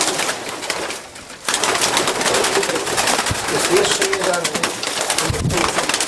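Racing pigeons in a breeding loft make a soft cooing and fluttering commotion, fairly close, with people talking throughout.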